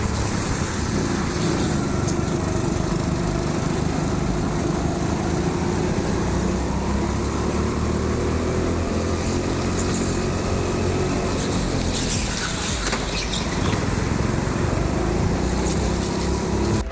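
Go-kart engines buzz continuously around a TeamSport indoor karting track, a dense high-pitched whine from several karts that stays loud throughout with shifting pitch as they race.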